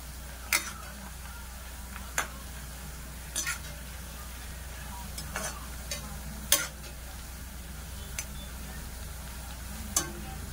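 Prawns for a kachha biryani brown in a pan with a faint, steady sizzle under a low hum, broken by sharp, sparse clicks of a spoon against the pan every second or two.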